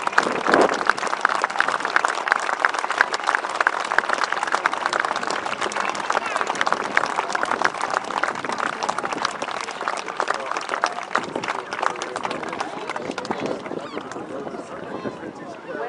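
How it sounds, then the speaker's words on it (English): A crowd at an outdoor history festival applauds after a flying display, producing a long, dense crackle of many hands clapping that stays steady and slowly thins toward the end. "Ladies and gentlemen, a round of applause please for the Eagles over Normandy."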